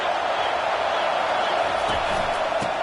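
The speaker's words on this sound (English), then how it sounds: "Listen to this crowd just shaking the girders of this place, trying to help their defense" Stadium crowd at a football game roaring as the home defense pins the opponent back, a dense, steady wall of cheering noise with a few sharper thumps near the end.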